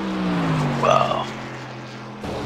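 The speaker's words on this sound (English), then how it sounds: "I hear cars still on the track" Racing game cars circling a track, a steady engine hum with a brief rising whine from a passing car, moderately close, while a person talks briefly over it.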